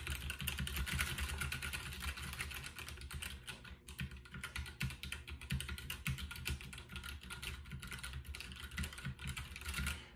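Rapid, steady typing on a Smart Ducky XS-84 mechanical keyboard with brown switches, close-up and moderately quiet, a dense run of soft clacks with no talk.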